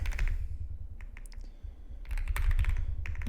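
Keys clack on a computer keyboard as a password is entered during a Slackware 15 login, with bursts of close, quick taps separated by brief pauses, over a low background hum.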